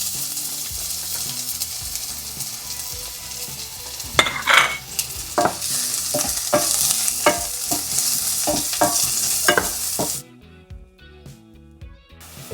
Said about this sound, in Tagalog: Mag-gisa kayo ng onion and garlic.